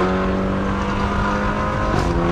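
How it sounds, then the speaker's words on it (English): A BMW G20 330i with the 4-cylinder B48 engine, valved exhaust, freeflow downpipe and resonator revs loudly, a raspy sustained engine note with a sharp shift in pitch near the end. "Everybody's asking why this 4-cylinder B48 G20 330i sounds so good."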